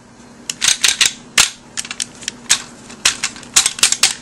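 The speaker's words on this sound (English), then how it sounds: "All nice little clickety clickety ratchet joints." Rapid ratchet joints of a Transformers Energon Ironhide toy click in short bursts of sharp, close clicks, with brief pauses between groups.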